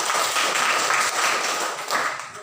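A class of junior high school students claps together during a lesson, a dense, steady patter of many hands that runs loud and unbroken throughout.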